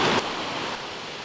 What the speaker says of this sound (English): I've never seen so many waterfalls in my life.